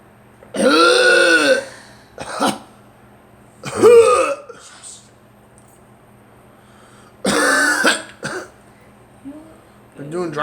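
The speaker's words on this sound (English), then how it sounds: "Cough and burp." Someone stricken while doing drywall coughs and burps in several loud, separate bursts with quiet gaps between them, rough and throaty, and a short gasp near the end.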